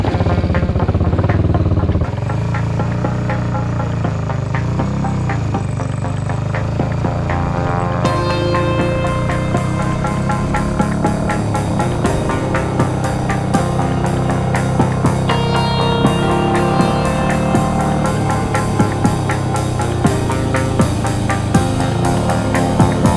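Motorcycle engine running rich on a first bike, ridden steadily outdoors with a continuous loud drone and clattery mechanical texture throughout, no voices.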